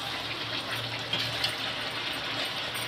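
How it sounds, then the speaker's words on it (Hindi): Water poured into a kadhai of cauliflower, potato and pea curry makes a steady, even gushing rush, close and moderately loud with no talk over it. "अब इसमें हम पानी डालेंगे।"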